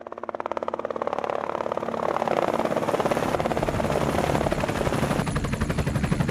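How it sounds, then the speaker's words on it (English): Helicopter rotors thump in a rapid steady beat over a rising engine roar, growing louder as the aircraft draws nearer and staying close and loud. "the sound of helicopter rotors filled the air"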